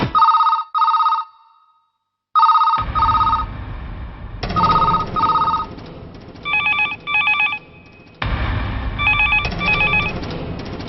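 A telephone at a police station rings on and on unanswered, its bell sounding in quick double bursts repeated several times, with a low rumbling background filling in beneath the later rings.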